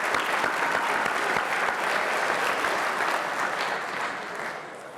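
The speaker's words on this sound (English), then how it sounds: "I think that he deserves a round of applause for that achievement as well" Sustained applause at a football awards ceremony, a dense, steady wash of clapping from a crowd that holds strong and then tapers off slightly near the end.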